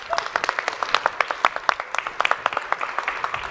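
Audience applause at a live Web3 pitch event, a run of distinct, fairly close hand claps with a steady quick rhythm, holding at an even level throughout.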